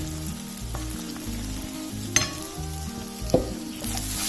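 Ingredients for a mor kuzhambu with zucchini and dal fry in a pan, a strong, steady sizzle up close, punctuated by two sharp utensil clinks; no one speaks.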